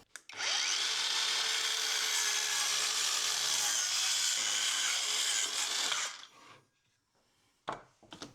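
A Hercules 4.5 inch cordless circular saw rips through a 3/4 inch pine board with a loud, steady high whine for several seconds, then winds down, followed by a few faint clunks.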